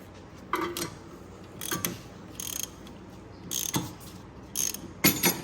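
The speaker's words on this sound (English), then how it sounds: "this is a 17mm size. I'm gonna give a ratchet." Ratchet clicking as it works a 17mm bolt on the lower control arm of a BMW 525i, in several short bursts of clicks separated by pauses, close and fairly quiet.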